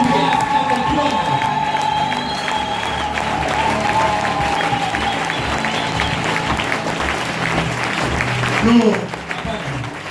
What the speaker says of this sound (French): Regarde comment tu acclames.